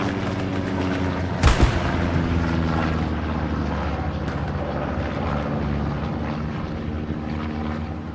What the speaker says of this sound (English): Recon plane goes up for 7 Cav.